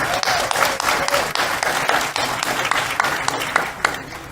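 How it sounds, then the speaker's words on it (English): An audience gives a loud, sustained round of applause, dense and steady clapping from many hands filling the room from start to finish. "So give yourselves a round of applause."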